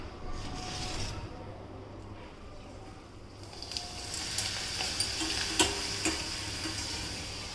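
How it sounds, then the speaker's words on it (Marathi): Year-old urad and moong dal papad frying in plenty of hot oil, a steady close sizzle and bubbling hiss with a few small ticks and clinks of a utensil, fairly quiet and continuous throughout. "मस्त असे 7-8 पापड तुम्हाला तळून दाखवते."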